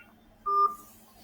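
A single short telephone tone, clear and steady for about a quarter second, rising out of quiet room hiss with no talk.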